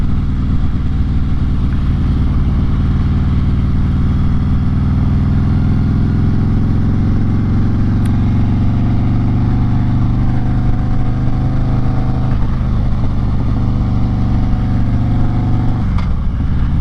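A Harley-Davidson Road King Special with a 114 engine riding through Starved Rock State Park, a loud continuous low engine rumble with wind noise and subtle shifts in pitch, close and without speech.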